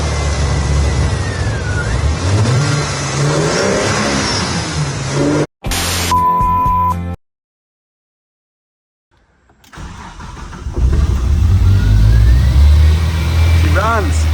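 An engine cranks and fires up, then runs and revs in rising and falling sweeps. The running is broken by an abrupt cut, a tonal burst and several seconds of silence before the engine noise returns louder, with voices over it.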